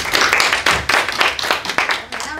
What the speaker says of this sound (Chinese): 掌声谢谢